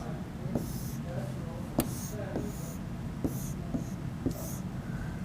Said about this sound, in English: Let's draw